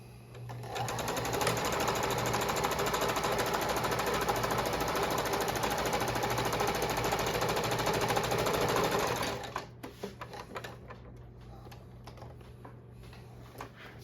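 Sewing machine fitted with a buttonhole attachment stitching buttonholes for a micro tallit, a loud continuous rapid mechanical whir that runs for about nine seconds and then stops abruptly, followed by a few faint clicks and handling sounds.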